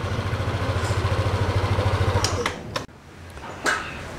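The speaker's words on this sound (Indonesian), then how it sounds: "mesinnya tentu menjadi lebih teredam ya, artinya nggak terlalu keras seperti ini" A Yamaha Aerox scooter engine runs with a fast, pulsing idle during servicing, loud and close, then cuts off abruptly, leaving sharp clicks and workshop noise.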